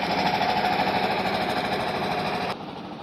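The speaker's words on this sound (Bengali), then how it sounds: "যাত্রীবাহী ট্রলার, যাত্রীবাহী ট্রলার।" A passenger trawler's engine chugs in a fast, steady mechanical rhythm at close range, then drops noticeably in loudness partway through as it continues running.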